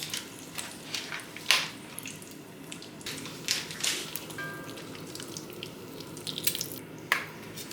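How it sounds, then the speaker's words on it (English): Beef tallow and room-temperature meat sizzling in a pan for Texas chili, a soft steady hiss broken by sharp pops and crackles, fairly quiet and close. "add some tallow in the pan to increase the amount of fat available for the meat"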